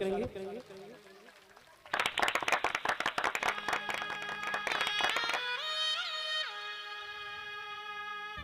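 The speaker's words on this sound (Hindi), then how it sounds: "सभी लोग ताली बजा करके स्वागत करेंगे।" An audience claps in welcome at a religious Bhagavat Katha gathering, a burst of brisk, dense applause entering loudly and continuing for several seconds amid music and a voice over a sound system.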